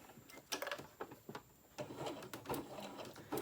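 A sewing machine stitches through a thick, many-layered lanyard in uneven bursts of running, pausing and restarting, close and moderately loud.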